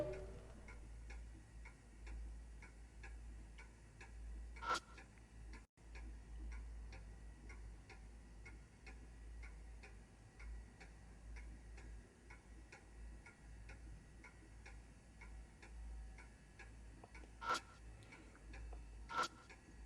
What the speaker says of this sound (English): clock is swinging without a stop.